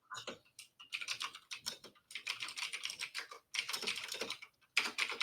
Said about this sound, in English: my keyboard's so loud. Sorry. I usually mute it when I'm typing. I have a mechanical keyboard.